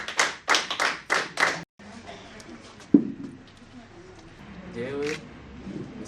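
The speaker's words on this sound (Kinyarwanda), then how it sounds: "tuba amashyi menshi cyane" Guests at a wedding ceremony clapping in several quick bursts at the start, loud and close, followed by quieter room sounds and a single thump as talking resumes.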